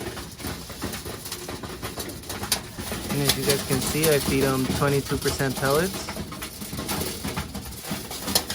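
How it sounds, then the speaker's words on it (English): Birmingham Roller pigeons cooing in a loft at feeding time, soft rolling coos rising in the middle under someone speaking, with background hum and scattered pecking patter. "So now that the old birds are done eating, I'm going to go ahead and feed the young birds."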